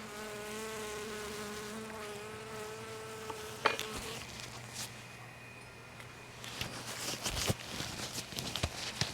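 Honeybees buzz around a beekeeper at an open hive during a late-summer apiary inspection in Florida, a steady droning hum near the listener, followed by scattered clicks and rustles of handling.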